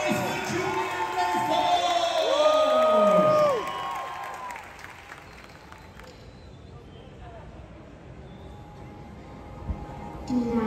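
Crowd watching a live show aboard a cruise ship cheering and clapping for a highline performer, loud whoops and shouts for the first few seconds before the noise drops to a quieter murmur.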